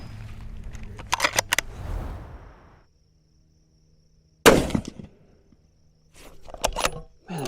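A rifle fires once at a target 975 yards away, a single sharp, loud crack followed by a brief ringing decay, set between stretches of shuffling and handling noise outdoors.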